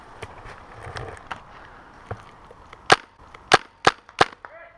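Airsoft gunfire outdoors at an airsoft game, a few sharp snapping shots, the last four loud and close in quick succession over faint rustling background.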